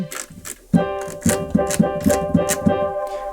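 Held string-ensemble tones from the strings layer of a Korg SV2 stage piano, sustained under repeated percussive key strikes in a steady rhythm, close and clear with no voices.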